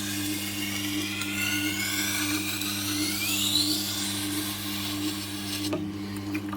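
A Victorinox 8-inch chef knife getting a smoothing pass on a powered sharpener, a steady high whining grind with a motor hum beneath, close and continuous, with a brief knock near the end.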